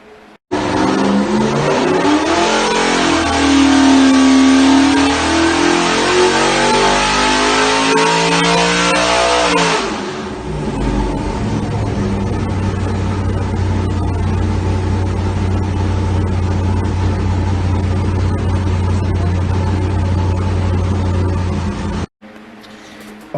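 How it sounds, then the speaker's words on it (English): A Ford engine fitted with an Edelbrock Performer RPM air-gap intake manifold revs hard on a dyno, climbing loudly for about ten seconds, then dropping to a steady lower drone until cutting off near the end. "here's the dyno pull on the Performer RPM"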